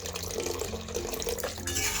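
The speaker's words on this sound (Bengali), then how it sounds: "এখন সামান্য দিয়ে দিচ্ছি জল" Water runs steadily into a cooking pot, a soft continuous pour for about two seconds while preparing a Bengali googli (snail) stew with taro and spinach.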